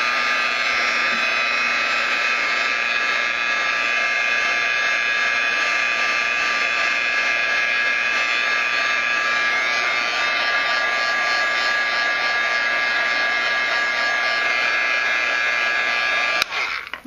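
A heat gun dries paint in the Tattered Angels Naturally Aged Paint System for a peeled-paint finish, giving a loud, steady blowing whine that runs unbroken for about sixteen seconds and then cuts off abruptly.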